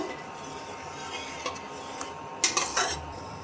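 Flour and milk are stirred in a pan, with a low background hum broken by light utensil taps and a short burst of scraping clatter near the end.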